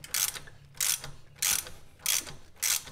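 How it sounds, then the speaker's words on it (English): Ratchet wrench working a nut on a frame-mounted highway peg, five evenly spaced bursts of sharp clicking separated by short pauses, close and alone. "I'm going to have to loosen up this nut a bit just to give it some play before tightening it back down"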